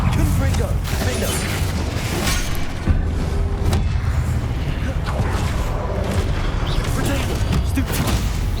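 Confringo blasting spell in Hogwarts Legacy, loud booming blasts and crashes over dense combat noise, with a voice talking throughout.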